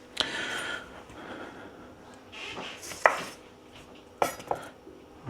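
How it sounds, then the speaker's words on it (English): A knife chops limes on a cutting board during cooking for a marinated pork tenderloin, giving a few sharp, scattered knocks and clacks against a quiet kitchen background, with no speech. "All I'm doing right now is chopping up these limes"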